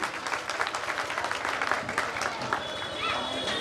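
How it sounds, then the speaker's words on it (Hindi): A school event audience applauds loudly to welcome a guest on stage, dense sustained clapping throughout, with faint voices mixed in. "एक बार जोरदार तालियों के साथ सर का स्वागत कीजिए"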